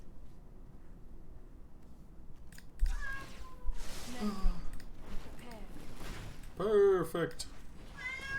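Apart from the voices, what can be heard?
cat meowing in MTG Arena, video game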